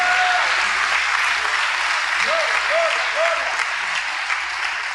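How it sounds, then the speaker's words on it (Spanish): A church congregation gives sustained, even applause, a dense wash of clapping that holds steady throughout with a few faint voices rising briefly through it. "denle un aplauso al Señor Dios Todopoderoso en esa noche"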